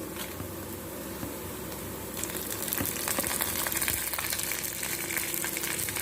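Dried red chillies fry in a hot oil tempering with urad dal and chana dal, a continuous crackling sizzle that grows louder and busier partway through, with no voices.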